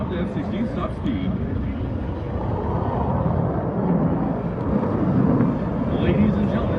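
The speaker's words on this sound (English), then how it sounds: "from your right, the F-16 in the high-speed pass." An F-16C Fighting Falcon fighter jet makes a high-speed pass at an airshow, a loud continuous roaring rumble that swells gradually and holds strong throughout.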